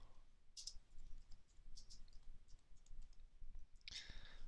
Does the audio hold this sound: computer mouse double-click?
yes